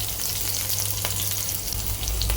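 Ginger, green chilli and garlic sizzle in a hot oiled pan, a continuous close crackle with faint stirring clicks and scrapes and no voices.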